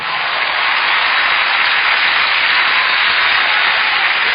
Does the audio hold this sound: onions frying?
no